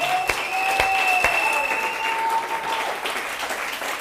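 A church congregation applauds steadily, with a dense patter of clapping and a few whistles rising above it.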